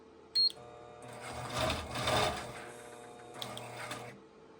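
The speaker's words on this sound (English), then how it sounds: "I just took a couple of stitches in place right there before I start the design." A sewing machine runs briefly to take a couple of stitches in place during free-motion quilting, a short mechanical whirring burst with a click before and after, close and alone.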